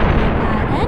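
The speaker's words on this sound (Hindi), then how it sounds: "एक जोरदार धमाका होता है" In a Hindi moral cartoon, a loud explosion blasts as a sustained, dense roar with no quiet gaps over a short burst.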